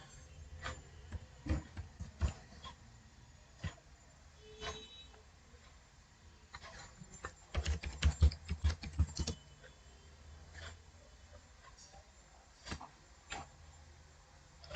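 Typing on a computer keyboard while entering an amount in the PFMS portal, scattered light key taps at first, then a quick dense run of keystrokes in the middle, close and fairly quiet, with no talking.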